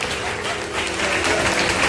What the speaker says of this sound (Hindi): जरा ताली बजा दीजिए जोरदार